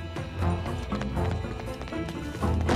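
A horse gallops in Red Dead Redemption 2, its hooves striking in a fast, driving rhythm under in-game music and ambience, fairly loud and continuous.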